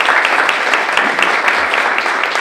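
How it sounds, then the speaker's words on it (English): Steady applause from a roomful of guests at a donor appreciation luncheon, dense continuous clapping that stays loud and even throughout with no talking over it. "Round of applause for all you."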